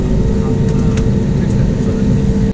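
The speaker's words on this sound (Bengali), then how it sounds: "ভূমি থেকে আকাশে ওড়ার জন্য আমাদের বিমান পুরোপুরি প্রস্তুত।" IndiGo airliner's engines hum steadily before takeoff, a loud continuous low drone filling the cabin with a few faint higher whines, no talk.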